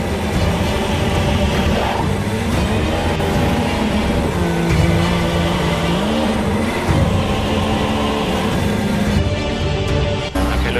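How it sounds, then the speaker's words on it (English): Lewis Hamilton's 2014 Formula 1 car in a racing video game rolls into the pits, a loud, steady engine drone with shifting pitch that fills the scene without pause. "And into the pits finally comes Lewis Hamilton."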